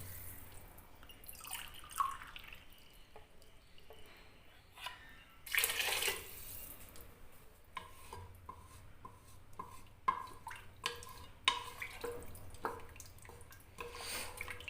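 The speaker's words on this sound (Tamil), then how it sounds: "ஸோ 2 டம்ளர் தண்ணி ஊற்றிக்கிறேன்." Water from two tumblers goes into rice in a pot for bottle gourd rice, heard as quiet splashing pours with a louder gush midway and scattered drips, close and without talking.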